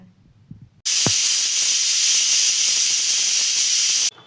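A pressure cooker cooking sweet potato lets out a loud, steady steam hiss that bursts in abruptly and holds for about three seconds before cutting off sharply. A brief low thump comes just as the venting begins.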